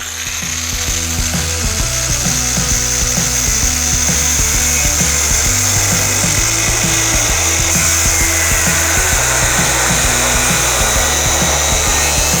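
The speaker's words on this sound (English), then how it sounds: "I decided it would be just as easy to cut the rest of the way with a cutoff wheel" An abrasive cutoff wheel cuts through a steel beam for a lean-to build, producing a loud, continuous high-pitched grinding whine with a droning motor underneath, steady for the whole stretch.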